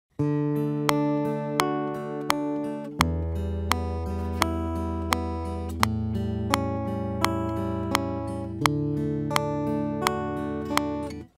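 Steady, quantized arpeggiated guitar notes ring out over a regular, sharp metronome click in Studio One, evenly timed throughout with no voices.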